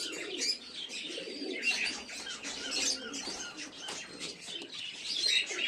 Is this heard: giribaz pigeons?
yes